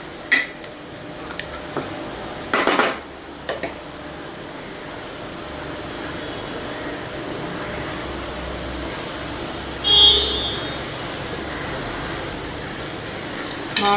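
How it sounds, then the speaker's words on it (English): Cashew nut paste fries in a pan while being mixed, a low steady sizzle with occasional spoon scrapes and clanks against the pan, a couple of louder knocks standing out. "Mix it well and let it fry for a few minutes."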